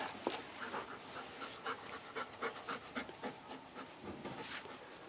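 A dog pants rapidly and wetly close by, a quick, uneven rhythm of breathy huffs with a faint whimper, carrying on steadily for several seconds.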